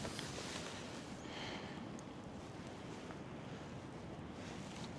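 Steady wind buffets the microphone outdoors during sea trout fly fishing on the Norwegian coast, making a constant low roar and rumble with faint surf in the background and no speech.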